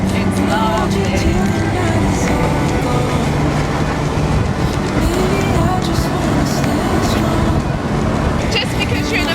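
A Ferrari driven gently on countryside roads, with steady engine and road noise plus wind filling the cabin throughout at a constant level, and no talk.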